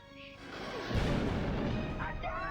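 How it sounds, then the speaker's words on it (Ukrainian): Weapon fire from a Transformers Generation 1 cartoon ambush erupts in a loud, sustained burst of blasts and crashes, following a brief stretch of dialogue. "Вони в нас стріляють."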